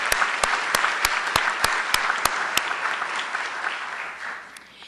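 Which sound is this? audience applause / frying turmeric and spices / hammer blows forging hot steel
audience applause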